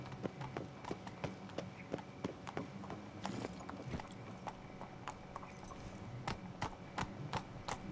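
The horse Roach gallops at night in The Witcher 3: Wild Hunt, a brisk, steady clip-clop of hooves that runs continuously and fairly close.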